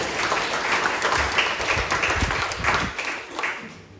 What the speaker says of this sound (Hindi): क्यों हम उसके लिए ताली बजाएं?